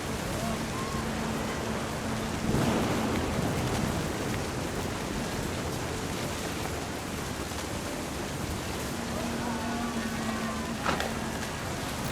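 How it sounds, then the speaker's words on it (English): A thunderstorm in the game What Remains of Edith Finch brings a steady, dense hiss of heavy rain throughout, with a couple of brief louder swells that may be distant thunder. "The thunder sounded much too close and full of angry power"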